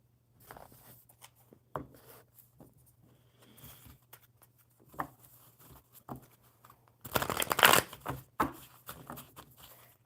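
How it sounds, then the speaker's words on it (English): Soft close handling of a deck of playing cards, with scattered taps and slides, then a brief riffling burst of cards being shuffled near the end, alone with a low steady hum behind it. "All right, I am going to shuffle."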